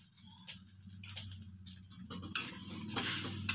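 A pan of tomato and chili sauce is stir-fried with a spatula, giving soft scraping and clicking strokes over a quiet sizzle that grows louder in the last second.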